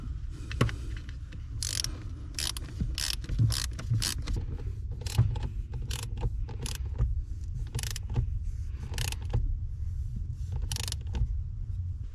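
Screws are driven in by hand while a 1991 Chevy pickup HVAC actuator is installed, giving a string of short ratcheting clicks and scraping ticks over a low mechanical hum at fairly quiet level.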